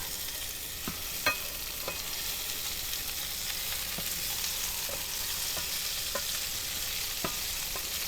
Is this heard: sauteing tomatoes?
yes